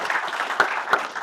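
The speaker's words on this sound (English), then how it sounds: "I want to give Andres a round of applause" Short burst of audience applause at a real estate talk, a continuous crowded patter of clapping with a couple of sharper claps standing out.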